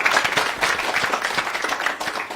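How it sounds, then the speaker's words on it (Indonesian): A group of students at a school theatre event claps for a classmate from the drama club, a brief burst of close, lively hand clapping. "kasih tepuk tangan dong untuk temennya ya"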